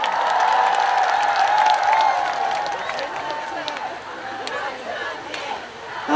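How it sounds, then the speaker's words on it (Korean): A large crowd at the Cheongsong apple festival applauds, loud and fairly close, the clapping easing slightly after a few seconds. A voice carries over the applause. "세계적으로다가 박수 한번 쳐주세요."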